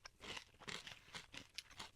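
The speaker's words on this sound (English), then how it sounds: "I like really crunchy granola." Crunchy granola being chewed up close, loud crisp crunches coming in an uneven series of bites with no talking.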